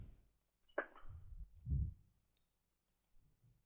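Several sharp, quiet mouse clicks come in small pairs against a near-silent room, with a few soft handling rustles between them.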